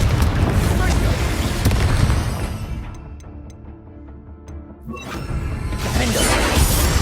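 Booming spell blasts and crashing impacts from combat in Hogwarts Legacy, including the Confringo explosive curse, rumble continuously with dense game effects and music, dipping briefly in the middle before swelling again.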